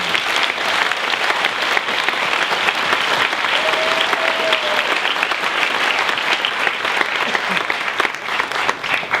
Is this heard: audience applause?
yes